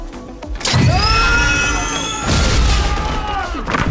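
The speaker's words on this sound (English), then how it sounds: "It was a homemade flashbang" A homemade flashbang going off as a movie sound effect: a loud sudden blast with ringing high tones that hang and fade, followed by a second heavy burst about a second and a half later, close and dominant.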